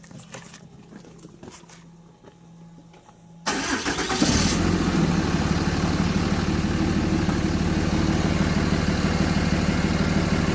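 A Dodge Ram truck's engine cranks briefly and catches, then settles into a steady, loud idle after a quieter stretch of small clicks and handling noises.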